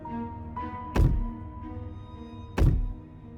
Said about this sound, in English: Movement on the stairs. Thump. Thump.